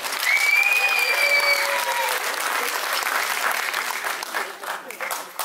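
A room full of people applauding steadily, a dense wash of clapping that thins slightly toward the end, with faint voices and a few whistles mixed in.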